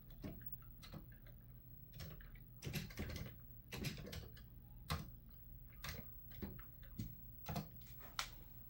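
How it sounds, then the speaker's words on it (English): Keys clacking on a Commodore 64 computer keyboard, irregular single presses and short flurries, close and quiet, with no talking. "Gotta learn how to type on this."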